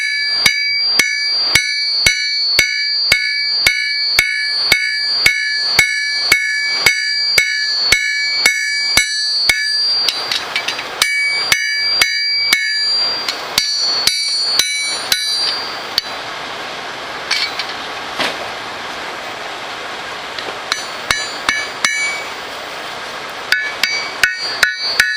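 Hot steel for a knife blade is hammered on an anvil, with a long run of evenly spaced, loud, ringing blows, then a brief break and scattered, more irregular strikes with lingering metallic ring.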